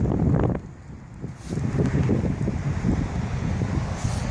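Strong wind roars across an open campus field in Canada in late winter, buffeting the microphone with loud, continuous gusts that dip briefly near the start and then keep blasting steadily.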